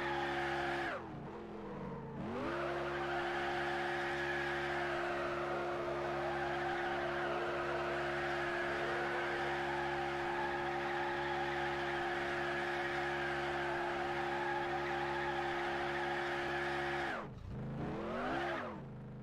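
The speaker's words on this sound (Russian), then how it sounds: "Я пытаюсь раскачать автомобиль и пустить его в занос, но система подруливания стабилизирует положение и не дает автомобилю провалиться в сильный занос." A car in a driving physics demo holds a steady engine drone with tire squeal as it is rocked into a slide, with short sweeping skid sounds at the start and end.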